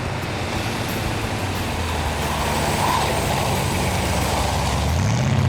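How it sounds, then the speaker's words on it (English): Smooth, muffled engine of a traditional Ford hot rod running steadily, a continuous low rumble with road noise, at an even loudness that swells slightly near the end, with no talking. "Well, the engine is really smooth though,"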